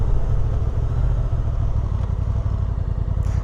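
A 2025 Honda NT1100 DCT motorcycle engine rumbles steadily and loudly from start to finish during spirited riding, with wind roar layered over the low drone.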